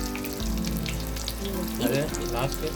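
Battered vegetable bajji fry in hot oil, a dense continuous sizzle and bubbling up close, with a low steady hum underneath and no talking.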